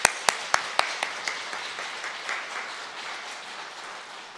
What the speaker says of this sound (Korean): 우리 뜨겁게 박수로 모시도록 하겠습니다